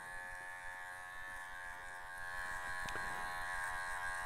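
A cordless Super Ion 120 hair clipper buzzes steadily and faintly throughout a barber's haircut, as a thin, even electric hum with no voices.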